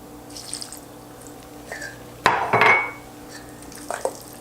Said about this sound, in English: I'm going to pour in the lime juice.